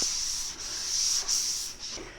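A steady, light sanding rub sweeps back and forth across a metal pizza pan in even strokes, roughing up the surface, close up with no talking.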